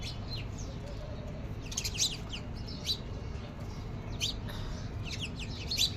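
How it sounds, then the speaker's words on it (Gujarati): House sparrows chirp around their nests, bright short tweets arriving in scattered bursts over a steady low background hum, fairly close and moderately loud. "બધી ચકલીઓ આવી ગઈ. આ જો ચાલુ ચી બધાયનું"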